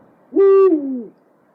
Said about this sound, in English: Am I in the woods? And an owl?